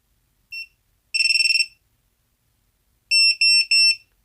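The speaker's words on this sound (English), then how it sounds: "Let's see if we hear the buzzer sound up when I apply some" A buzzer on a TinyHawk drone sounds when power is applied, giving high electronic beeps: one short chirp, a longer pulsing burst, then three loud beeps in quick succession, close and clear with no talk.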